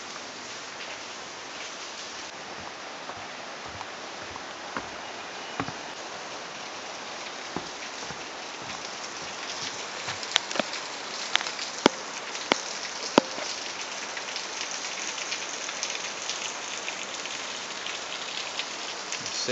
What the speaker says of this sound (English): I think I feel some raindrops.